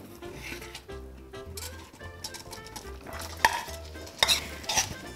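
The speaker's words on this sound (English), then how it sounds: "Stir in the cooked lentils well into the ghee and jaggery mixture." A spoon stirs cooked lentils through a warm ghee and jaggery mixture with saffron strands for puran poli, giving close, uneven scraping and gentle patter with a few sharper utensil knocks against the pan near the end.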